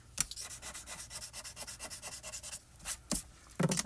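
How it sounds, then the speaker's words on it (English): Eraser rubbed lightly over a card to lift excess glimmer foil, a quick series of soft, close scrubbing strokes with brief pauses, no talk. "we can't just lightly go right over with the eraser and it takes it right off"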